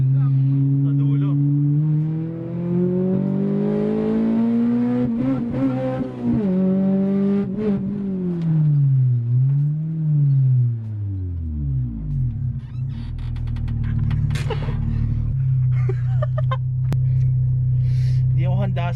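Honda Civic EG with a B18C Type R engine revving and accelerating up through the rev range, a loud, rising and falling engine note close by, with people talking over it.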